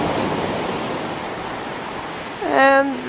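Surf on the beach at Aberystwyth, Wales makes a steady broadband wash heard from a boardwalk, broken near the end by a brief high bird call.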